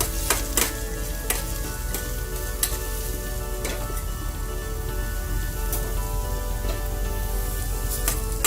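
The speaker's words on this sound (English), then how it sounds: "once the onions are sauteed" Chopped onions for rava dosa saute in a hot pan with a dense, continuous sizzle and crackle, broken by occasional sharp pops and stirring clicks, close up with no voices.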